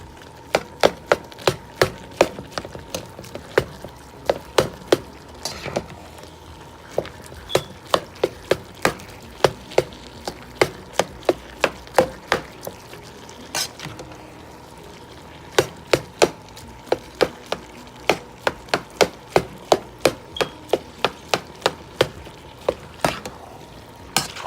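Seasoned meat for pasta being mixed by hand in a bowl, with sharp, rapid knocks and clacks arriving in quick irregular bursts, close up and with no talking.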